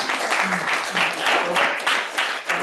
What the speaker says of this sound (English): I think I just want to applaud everyone.